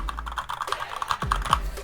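Fingers type on a Fantech Maxfit 87 mechanical keyboard, Mint Edition, fitted with red switches, giving a steady patter of soft, muted keystrokes, close and fairly quiet, with no talking.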